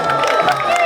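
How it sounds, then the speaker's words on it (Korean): A crowd cheers and claps to encourage a woman in her forties doing pull-ups, a brief burst of lively shouting and applause close by. "자, 응원의 박수 부탁드립니다."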